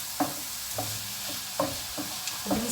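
Olives sauté in oil in a pan with a steady sizzle, while a utensil stirs and scrapes against the pan in regular strokes, heard close up.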